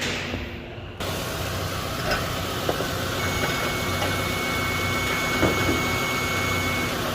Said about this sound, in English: Now let's start it.